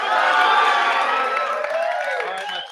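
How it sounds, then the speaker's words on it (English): A live audience at an event in Orlando, Florida breaks into sustained applause and cheering, a dense roar of clapping and whoops that stays loud throughout, with voices mixed into the crowd noise. "Give them a huge round of applause."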